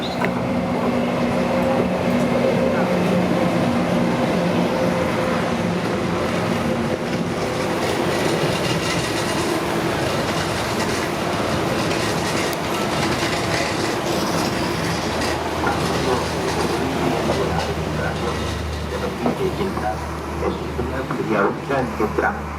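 A train passes through a railway station without stopping, its loud continuous rumble and clatter of wheels filling the platform, with faint announcement voices partly audible over the noise.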